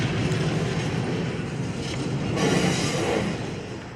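A Union Pacific freight train hauling boxcars rolls along the rails in Watsonville, California, giving a steady, close rumble with faint clickety-clack and no voices.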